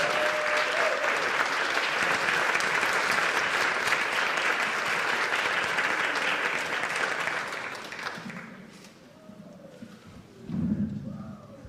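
Sustained applause from a board meeting audience honoring counseling support staff, dense and even for several seconds before tapering off, with a few voices and a thump as it fades.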